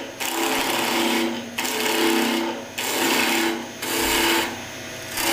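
A wood lathe spins while a roughing gouge cuts into the turning wood, producing a loud, continuous grinding hiss that rises and falls in repeated passes of about a second each, with brief softer gaps between cuts.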